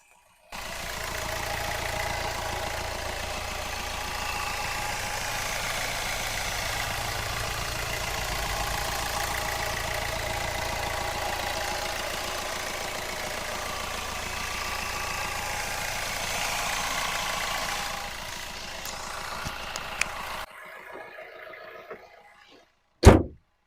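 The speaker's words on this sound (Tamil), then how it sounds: "இப்போ வண்டியோட இன்ஜின் சவுண்ட் எப்படி இருக்குன்றத மைக்கை பக்கத்தில் வச்சு காட்ட போகிறோம்" A diesel 2014 Fiat Avventura car engine idles steadily up close for about twenty seconds, then cuts out, followed by quiet and a brief sharp knock.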